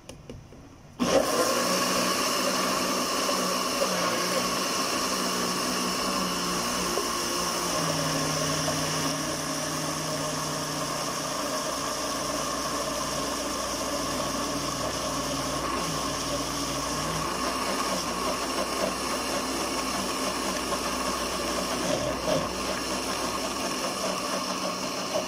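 An electric mixer blends yogurt cake batter as flour is added little by little, whirring in a steady, close, continuous drone for the whole stretch, its pitch wavering slightly, with no talk.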